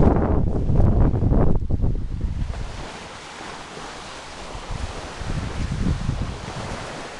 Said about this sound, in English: It's awful windy.